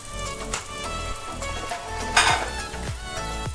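Dhuska batter made with chana dal fries in hot oil on medium flame, a steady bubbling sizzle with occasional stirring clinks against the pan, and no voices.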